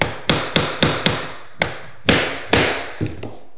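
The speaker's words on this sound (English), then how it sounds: "Just give it a little tap and you'll see this gap disappear." Hammer tapping Lifeproof vinyl plank flooring into place, a series of about ten sharp, close knocks at an uneven, brisk rhythm, each with a short ringing thud, and no voices.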